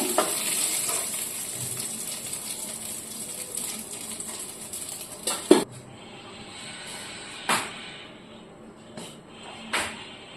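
Potatoes go into a hot pan in a home kitchen and fry with a steady bright sizzle that quiets after a few seconds, broken by occasional sharp clinks and clatters of utensils.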